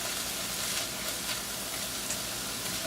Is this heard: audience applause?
no